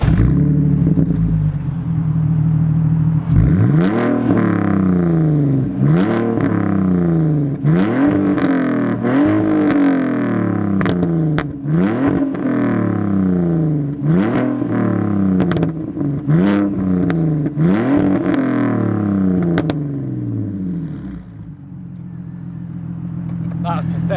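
A Volkswagen Golf R with an Akrapovic exhaust revs repeatedly in rising and falling bursts, loud and close, with sharp pops and crackles between revs and a steady idle underneath.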